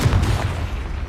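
A Confringo blasting spell explodes in Hogwarts Legacy, a deep, loud boom that fills the moment and rumbles on briefly as it fades, with no talking over it.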